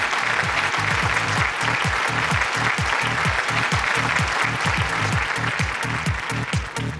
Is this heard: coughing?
no